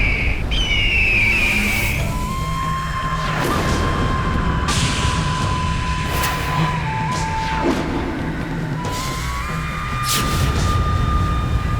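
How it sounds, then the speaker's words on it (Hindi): A giant bird squawks in a mythological Hindi TV series, a loud shrill screech at the start followed by heavy booming and whooshing effects and a sustained tone. "इतना विशाल काय पक्षी"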